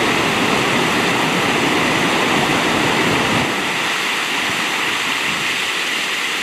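Meltwater rushes in a stream near icy Lake Erie, a loud, dense, continuous roar of flowing water close by, easing slightly in the low end partway through, with no talking.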